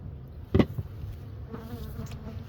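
Agitated honeybees buzz around an opened hive during a winter-readiness check of a colony from an October swarm, a steady low hum with a sharper thump near the start.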